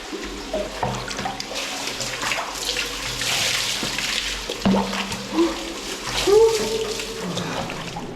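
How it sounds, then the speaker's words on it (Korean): Shower water runs inside a Tunisian bathhouse after a body scrub, a continuous splashing wash with intermittent voices and clatter in the room. "세신이 끝나면 여기서"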